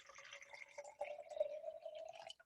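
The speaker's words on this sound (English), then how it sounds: "If I pour the water into this container" Water pours from a cup into a container in a second-grade classroom, making a faint, close trickle whose tone rises steadily as the container fills, lasting a couple of seconds.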